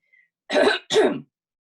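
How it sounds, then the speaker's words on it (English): Two quick, forceful coughs close to the microphone, back to back, followed by silence. "you got to see me cough"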